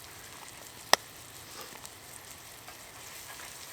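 Onions frying in a pan for an outdoor-cooked pork belly and onion sauce, with flour sprinkled over and stirred in: a faint, steady sizzle broken by one sharp click.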